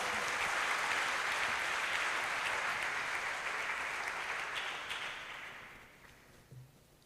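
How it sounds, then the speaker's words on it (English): A school seminar audience at a police academy event claps steadily in a dense wash of applause that holds strong, then gradually thins and fades out near the end. "Please give applause."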